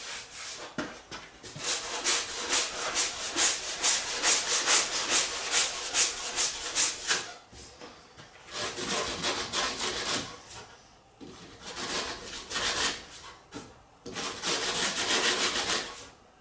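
80-grit sandpaper scrubbing car body paint down to bare metal on a Cutlass, a rapid rhythmic rasping in steady bursts with brief pauses between strokes.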